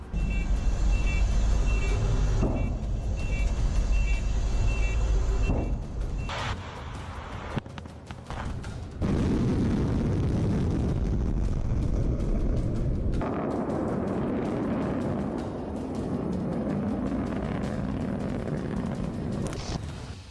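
Launch of a Russian RS-24 Yars nuclear missile: a loud, sustained roaring rumble that stays continuous through the whole stretch, with a brief dip partway before the heavy roar resumes.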